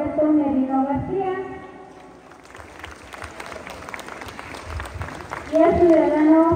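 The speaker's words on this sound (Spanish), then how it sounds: "Aplausos, por favor, público presente." Audience applause at the inauguration of a new roofed structure in a Mexican village, a crowd clapping in a dense wash between a man's announcements, moderately loud and mixed with talk.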